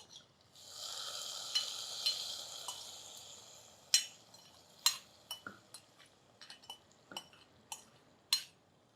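Fried raisins and cashews stirred into payasam, a soft sizzling hiss at first, then a series of sharp spoon clinks and scrapes against the pot, close and fairly quiet.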